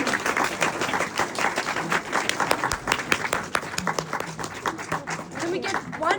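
Audience applause following a poetry reading, dense continuous clapping throughout, fairly close and steady, with crowd murmur mixed in.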